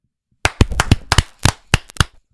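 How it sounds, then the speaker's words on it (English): About eight sharp hand claps from one person, close and loud, in an uneven rhythm after a brief silence. "I'll clap."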